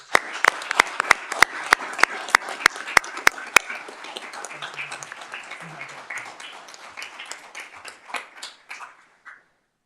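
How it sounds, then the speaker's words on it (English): A council chamber audience applauds a newest police officer at a Newark city council meeting, one loud close clapper keeping a steady beat over wider clapping that thins and fades away, with faint voices underneath. "please join me in giving a resounding applause to our newest police officer"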